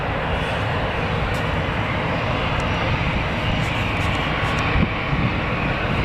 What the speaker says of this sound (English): So we've got this Ryanair heading out.